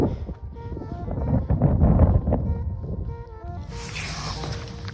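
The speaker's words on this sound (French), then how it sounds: "je prends des rafales quand même dans la gueule" Gusts of wind at a mountain lakeside bivouac spot, rushing and buffeting loudly against the microphone, swelling and easing in turbulent bursts over a few seconds.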